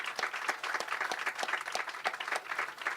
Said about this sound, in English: So I want to give you a big round of applause.